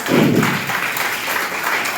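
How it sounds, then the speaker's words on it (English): A college prize ceremony audience applauds in a short burst of clapping that swells at first and then settles into a steady, fairly close patter. "So it's a big round of applause"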